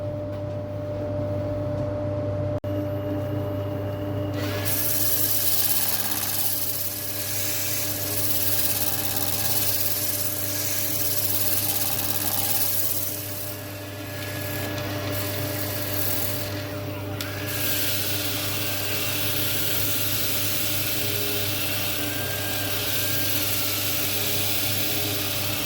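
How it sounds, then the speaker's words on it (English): A power sander works over the outside of a square-footed English oak bowl in a workshop, a steady whirring drone with shifting pitch as it smooths through the grits, running continuously with brief dips. "I'll be power sanding through the grits, just smoothing up the outside"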